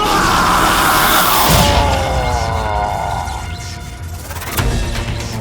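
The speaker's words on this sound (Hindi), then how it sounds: "ये चीखें सुनाई दे रही हैं" Loud, prolonged screams of pain and bellowing cries ring out in a dramatic scene over a heavy roaring background, fading and then surging again near the end.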